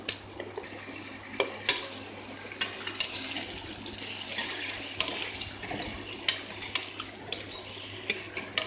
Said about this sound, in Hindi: इसको 2 से 3 मिनट फ्राई करने के बाद